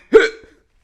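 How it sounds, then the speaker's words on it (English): A single close hiccup, loud and abrupt, with a short faint tail and no talk around it. "I cough and then I have a hiccup."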